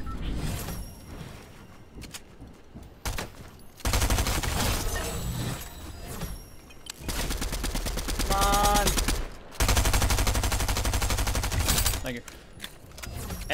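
SMG fire in Fortnite rattles in several rapid, loud bursts separated by quieter gaps, with someone talking excitedly over and between the volleys.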